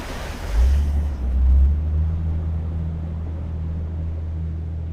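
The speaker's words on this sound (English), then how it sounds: "Just something about driving through a creek." A side-by-side off-road vehicle fords a creek on a riverside driveway, its low engine rumble steady under swells of rushing, splashing water that surge loudest early on, then settle into an even drone.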